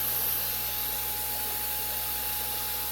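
A linear piston air pump runs continuously, pushing air through PVC tubing. It makes a steady, close, even hum with a broad airy hiss and no breaks or talking.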